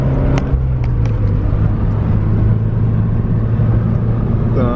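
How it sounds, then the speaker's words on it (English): Steady low rumble of road traffic heard from inside a car in bumper-to-bumper traffic, a continuous loud engine drone with no distinct passing vehicles. "look at all this traffic right here, man. Bumper to bumper traffic"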